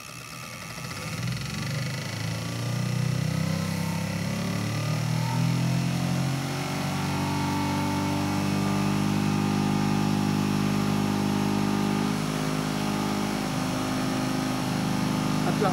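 An Allen 22-250 Syncrograph distributor test machine fitted with a Mallory Hy Fire VI ignition box and coil whirs up in speed, a loud sustained mechanical drone that rises in pitch and then holds near its top speed.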